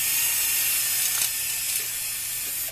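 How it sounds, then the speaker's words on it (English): A drill spins a 96-thousandths bit through metal on a transmission clutch part, a steady high whine with a ratcheting mechanical buzz, close and continuous, no talking. "Now we're going to go ahead and drill the 2 holes that I mentioned."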